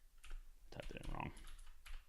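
Quick bursts of typing on a computer keyboard, close and fairly quiet, a few clustered keystrokes with a short pause in between.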